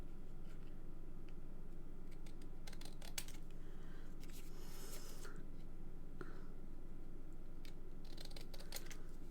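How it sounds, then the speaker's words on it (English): Scissors snip the borders off layered card pieces for a Christmas card with an inner panel and tags, a series of short, crisp cuts and paper rustles spread through the clip, close and fairly quiet, with no talking. "I'm going to attach this to there, and I'm going to cut these off"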